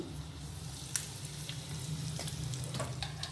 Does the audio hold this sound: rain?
no